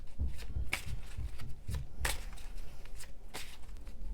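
Tarot cards being cut and shuffled by hand, a series of crisp riffling bursts and soft slaps at an irregular rhythm, close and fairly quiet, with no talking.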